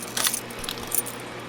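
Set of metal keys jangling close by in a small room at a veterinary school, with a few bright clinking bursts in quick succession as someone searches for the right one.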